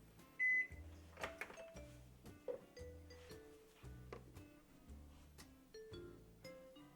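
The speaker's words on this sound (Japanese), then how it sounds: "電子レンジで90秒間加熱します。" A microwave oven runs with a steady low hum while heating a soy sauce, mirin and Albariño mixture for 90 seconds, with faint clinks and a short beep near the start.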